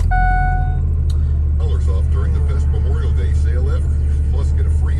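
A Cummins diesel engine fitted with a single Mopar Cummins oil filter cranks and fires, settling into a loud, steady low rumble up close as a person talks over it.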